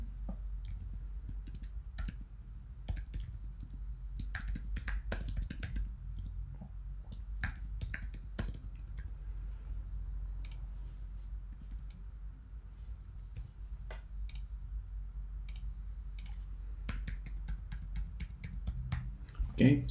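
Computer keyboard typing while personal details are entered into a blockchain web form, with irregular light key clicks running throughout against a low background hum, close and moderately quiet.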